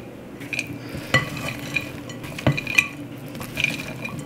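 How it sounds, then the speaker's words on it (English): Mayonnaise and horseradish mustard being stirred in a bowl for gluten-free chicken salad, soft wet scraping with a few sharp clinks of a utensil against the bowl, close and fairly quiet, with no talk. "So just start stirring this up"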